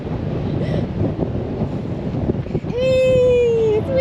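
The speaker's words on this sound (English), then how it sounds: "Come and stand in the wind, Liam." Strong wind at Freycinet National Park buffets the microphone in a steady low roar; near the end a high, sustained squealing tone rises above it.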